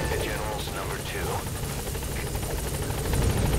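Helicopter rotor in the video game Metal Gear Solid 5: The Phantom Pain gives a steady, close whirring drone throughout, with game sounds and a person's voice on top.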